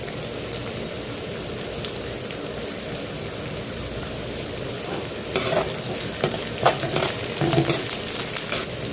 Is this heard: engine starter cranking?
no